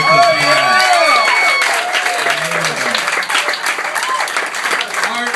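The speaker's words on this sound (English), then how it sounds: "Give another nice round of applause." Comedy club audience applauding a comedian after his set, a broad wash of clapping with a voice speaking over it at the start, continuing steadily throughout.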